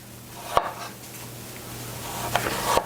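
Knife slicing pork loin filet on a cutting board, two or three separate soft cuts, close but quiet, no voice.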